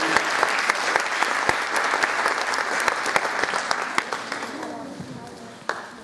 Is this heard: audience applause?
yes